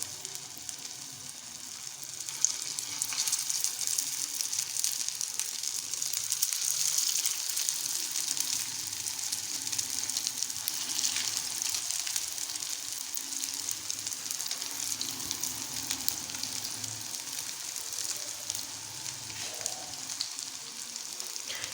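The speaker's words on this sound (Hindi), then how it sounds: "अब हम इसको फ्राई करेंगे। ऑयल को हमने अच्छे से गर्म करना है।" Cutlets made from bread and plain water fry in hot oil over medium heat, giving a continuous close, hissing sizzle that holds steady for the whole stretch, with faint bubbling and no voices.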